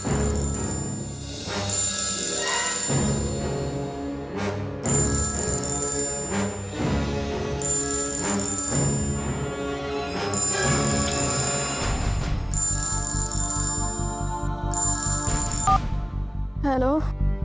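A telephone rings repeatedly in a domestic drama scene, its electronic ringtone sounding in bursts over a music score before an upward-sweeping tone near the end.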